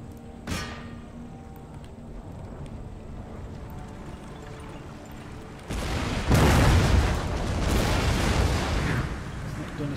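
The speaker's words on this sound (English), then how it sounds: "So all of my artillery, focus fire, well, it will focus fire their artillery." Artillery batteries firing in Empire Total War, an early single boom followed later by a dense, loud rolling barrage of overlapping cannon blasts and rumble in the battle.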